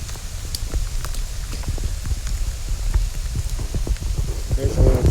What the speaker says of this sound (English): It's not done raining, but it's pretty light, so I'm headed out.